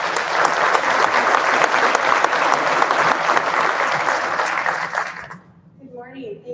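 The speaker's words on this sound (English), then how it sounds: "Let's give Jeannie a round of applause" A graduation audience at DMACC Boone's fall ceremony gives a loud, dense round of applause for a staff member, sustained for about five seconds before cutting off as a speaker begins talking.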